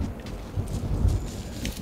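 Rain and rolling thunder from a stormy wilderness area in the Monster Hunter video game, a steady wash of rainfall with low rumbling swells, fairly loud and continuous with no talking.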